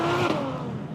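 A Ferrari 812 Superfast's engine revs loud and close, a strong rising mechanical roar with a short shift-like dip, on its own with no voices.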